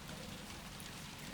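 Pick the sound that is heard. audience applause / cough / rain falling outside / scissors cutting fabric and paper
rain falling outside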